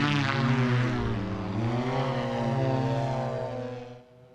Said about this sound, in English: It's called a black fly, and it takes off and lands vertically, almost the same way a helicopter does.